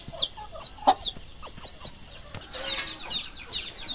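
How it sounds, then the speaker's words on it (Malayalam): Chickens in a backyard coop built from an old tank, clucking in repeated short calls, near and moderately loud, with a brief louder burst of squawking partway through. "അതിൽ വിരിഞ്ഞിറങ്ങിയ കോഴിയാണ് അത്"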